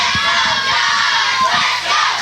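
A loud crowd at a small local pro wrestling showcase shouts and cheers in a continuous roar, with children's voices mixed in and occasional thumps underneath.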